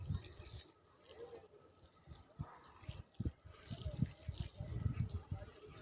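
Water is poured lightly onto potted jasmine plants topped with compost, making faint irregular splashing and trickling that grows busier toward the end.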